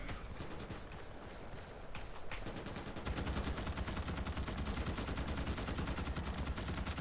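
Rapid automatic gunfire from a shooting bug in the video game Starship Troopers: Extermination, a dense continuous rattle that grows louder and steadier after the first few seconds.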